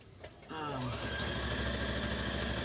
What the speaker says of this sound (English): So we're gonna back stitch.